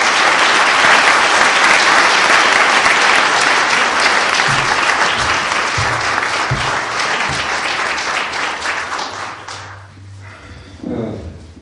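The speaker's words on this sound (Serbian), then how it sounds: "Pozdravimo ga i velikim aplauzom." Loud, dense applause from an audience at a formal ceremonial academy event, sustained for about nine seconds before fading out, followed by a few quiet thumps.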